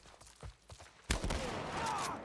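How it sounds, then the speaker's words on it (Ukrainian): A few muffled clicks, then a loud shotgun blast in The Last of Us Part 1, followed by a sustained noisy rumble and rattle. "Стріляємо трохи з дробовика"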